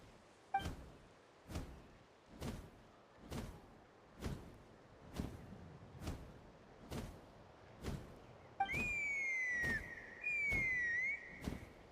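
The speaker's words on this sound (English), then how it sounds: "That sounded like a whistle" A whistle sounds during a Genshin Impact quest set in Tlalocan: bright, sustained tones with sliding pitch enter about two-thirds of the way through, following a string of evenly spaced soft thumps, and no one speaks.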